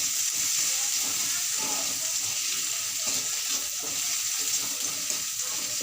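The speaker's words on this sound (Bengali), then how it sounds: "রসুন বাটাটা একটু ভাজা হলে" Garlic paste frying in a pan while cooking a green banana peel paste, a steady close hiss and sizzle with faint stirring scrapes, running evenly throughout.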